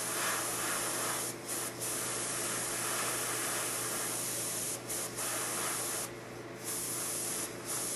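An aerosol spray can hisses in long continuous bursts while painting a model landing pad panel, loud and close, with brief pauses between passes.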